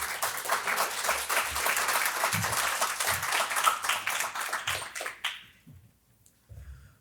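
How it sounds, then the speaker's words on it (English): Audience at a business forum in Champaign-Urbana applauds steadily for several seconds, the clapping thinning and fading out near the end, followed by a brief sound at the close. "So let's give him a round of applause."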